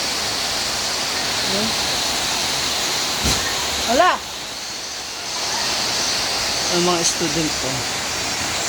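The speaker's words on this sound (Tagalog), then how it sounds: "Malakas ang ulan." Steady, dense rain noise fills the clip, a loud constant hiss with brief voices speaking over it now and then.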